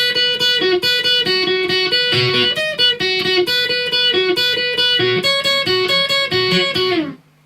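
Distorted electric guitar plays a loud melodic solo from a song with sustained bending notes, ringing steadily before fading out at the end.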